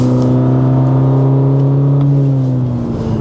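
A 2023 Cadillac CT4-V engine hums steadily from inside the cabin with artificial audio enhancement, giving a strong, even low drone that eases slightly near the end.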